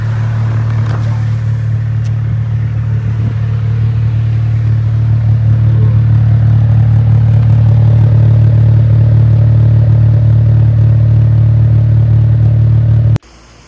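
A K20A3-powered Acura RSX on its stock header tune holds a loud, steady idle shortly after a cold start, with a deep, even drone that runs without a break and then cuts off abruptly at the end.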